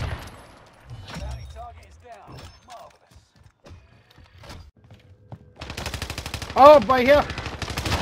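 Rapid automatic gunfire bursts from a first-person shooter game, loud and dense near the end, with scattered softer shots and game noises earlier while a player talks over it.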